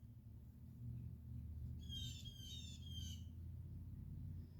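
A few high, squeaky bird calls chirp in a quick cluster over a low, steady outdoor rumble, fairly faint and at a distance.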